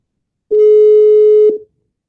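A WhatsApp call tone: one loud, steady electronic beep lasting about a second, clean and alone.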